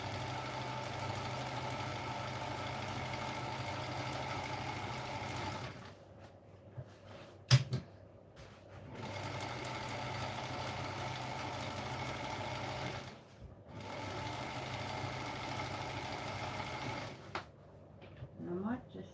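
A sewing machine stitches a shopping bag into a cover in long continuous runs, whirring steadily for several seconds, pausing briefly twice, then starting again, close and fairly loud.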